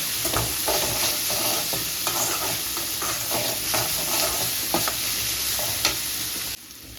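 Grated coconut sizzles and spits in a hot pan for a bean stir-fry while a spoon scrapes and stirs in quick, repeated strokes; no one speaks.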